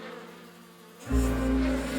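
A swarm of bees buzzing around a hive in a tree in a kids' cartoon, a loud steady droning hum that swells in abruptly and holds without speech.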